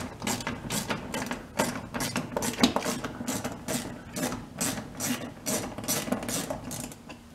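A hand ratchet works a 10 mm bolt loose from a speaker mounting point on a Yamaha RMAX 1000 side-by-side, giving a steady run of quick clicking pawl strokes, close by and fairly loud, with no talking.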